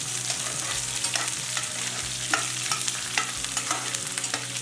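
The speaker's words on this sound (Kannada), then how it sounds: "ಕರಿಬೇವು ಸೇರಿಸ್ಕೊಳ್ಳೋಣ ಕ್ಯಾಪ್ಸಿಕಮ್ಮು ಸ್ವಲ್ಪ ಫ್ರೈ ಆಗಲಿ" Capsicum and curry leaves fry in a pan, a steady broadband sizzle with repeated soft stirring scrapes at an irregular rhythm, close and fairly loud with no talking.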